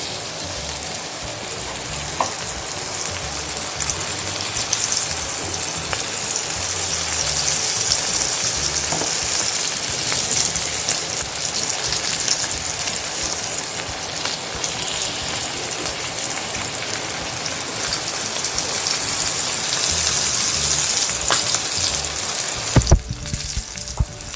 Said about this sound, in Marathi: त्याच्यात तेल घालून घेतले गरम होण्यासाठी आता तेल आपले तापले आता ते मी हे पापलेट त्याच्यात सोडत आहे